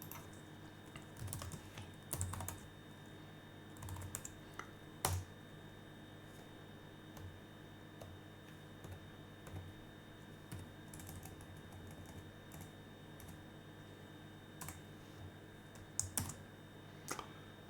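Quiet, close computer keyboard typing comes in irregular bursts of soft key clicks with short pauses, under a faint steady background hum.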